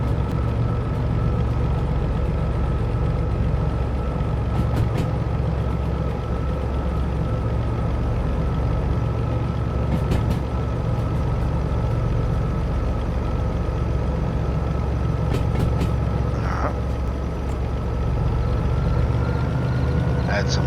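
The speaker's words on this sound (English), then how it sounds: "Listen to that diesel engine roar." A diesel locomotive engine in the train simulator game Derail Valley drones steadily and heavily under power, a continuous low rumble with faint clanks, while a voice talks over it.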